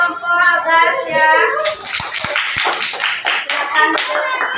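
Children in a classroom burst into loud group applause for a presenting group, the clapping following a teacher's voice at the start and continuing steadily to the end.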